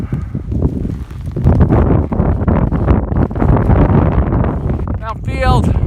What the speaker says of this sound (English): It's starting to get windy up here